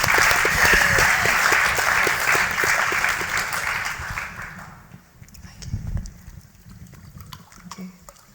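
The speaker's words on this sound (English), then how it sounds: "Round of applause for our panellists." Audience applause for panellists at an engineering lecture: loud sustained clapping from a large crowd that thins out over several seconds to scattered claps and room murmur.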